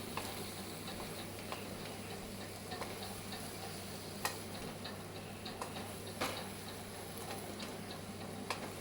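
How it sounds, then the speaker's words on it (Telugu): Masala being stirred into chicken in a pan for a Sunday chicken fry, a quiet low hiss under light, irregular scraping and ticking taps of a spoon against the pan, with no talk. "మసాలా అంతా చికెన్కి పట్టేటట్టు మనం అంతా బాగా మిక్స్ చేసుకోవాలి."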